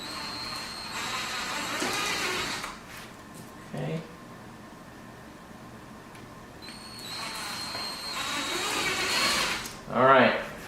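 A power drill bores holes to mount a carbon fiber spoiler on a C8 Corvette, with several bursts of whirring broken by pauses, fairly close, while someone talks over parts of it.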